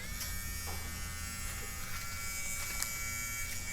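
A tattoo machine fitted with an 11 round liner or 11 curved magnum needle buzzes steadily and close up as it is set up, a continuous even electric drone with no talk over it.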